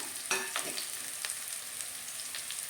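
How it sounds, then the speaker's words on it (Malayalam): Banana leaf thoran being sautéed and stirred in a pan with curry leaves, a steady close sizzle punctuated by several sharp scraping strokes of a spoon against the pan. "ഇതൊന്ന് നല്ല രീതിയിൽ വഴറ്റിയെടുക്കാം."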